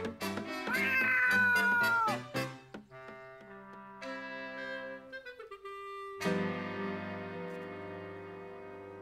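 A cartoon cat meows loudly in a few drawn-out, wavering cries, followed by bright, ringing musical tones.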